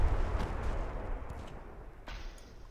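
A torpedo strikes a US super battleship in the naval game Ultimate Admiral: Dreadnoughts, a deep, rumbling explosion that fades out, then a sharper secondary blast near the end.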